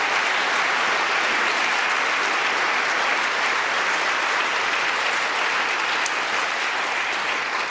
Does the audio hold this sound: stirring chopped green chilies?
no